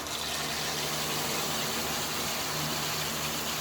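A drilled residential well with a 3 horsepower variable speed pump, switched on and pushing water into new house plumbing, gives a steady, loud, continuous rushing hiss with an engine-like rumble underneath and no breaks.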